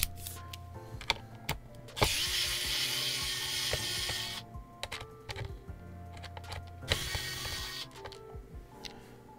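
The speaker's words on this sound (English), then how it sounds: "So let's go ahead and take out these two screws." Screws being unscrewed from a MatthewTech MK80 keyboard case with a small driver, giving close, crisp ratcheting clicks in two longer bursts separated by quieter handling taps.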